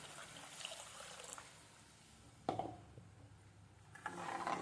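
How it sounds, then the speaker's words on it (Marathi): Water is poured into a pot of ground spice paste for a yogurt kadhi, making two soft, brief splashing pours in an otherwise quiet kitchen with no talking. "आता मी त्याच भांड्यामध्ये दीड वाटी पाणी घालेन आता त्यामध्ये पाणी घालायचं"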